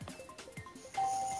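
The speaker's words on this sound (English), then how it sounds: "somebody's at the doorbell" A doorbell rings once near the end, a sustained steady tone heard over faint background game sounds during an online game call.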